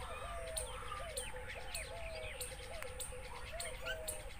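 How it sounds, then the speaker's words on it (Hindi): A wild bird known in Sindhi as titeer calls in Sindh, giving a series of repeated whistled notes and sharp chirps at regular intervals over a steady outdoor background hiss. "ये जो पंछी है इसको हम टीटीआर बोलते हैं सिंधी में"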